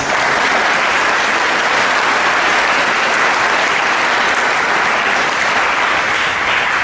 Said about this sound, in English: So a round of applause for them too, please.